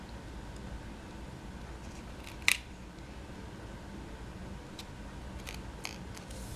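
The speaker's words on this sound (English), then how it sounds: "take my snips, cut that off" Snips cutting cardstock while making a Z fold card: one crisp, sharp snip stands out clearly over a quiet room hiss, followed by a few faint clicks.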